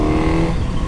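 A Suzuki GSX-S1000 sport motorcycle runs on a race track, its engine a loud, steady drone heard up close without a break.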